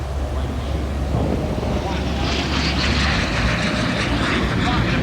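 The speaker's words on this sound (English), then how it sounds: "I want you to look closely at the profile of this aircraft, especially when Greg rocks it up on the wing" A T-33 Shooting Star jet with large wingtip tanks flies at an airshow, a broad roaring whoosh that swells in the upper range as it passes, blended with wind noise on the microphone and no clear talk.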